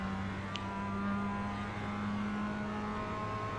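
Race car engine in the iRacing sim, a steady close drone held at near-constant pitch while slipstreaming through a chicane, with no clear revving or gear changes.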